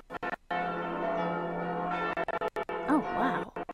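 A church bell rings in an Attack on Titan anime scene, sustained ringing tones with layered harmonics that swell and fade, interrupted by brief gaps and wavering tones near the end.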